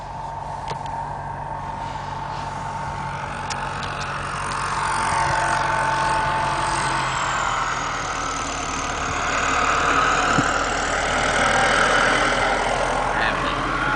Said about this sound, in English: Recording the tractor going by